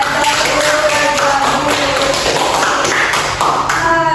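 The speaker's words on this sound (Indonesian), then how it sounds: "Beri tepuk tangan untuk Alvida" Students in a classroom clap for a classmate, a loud, continuous burst of many close hands with scattered thumps and faint voices underneath.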